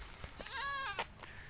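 A goat on a small farm in Tarlac bleats in a wavering, drawn-out call, close by, with a couple of short rustles around it.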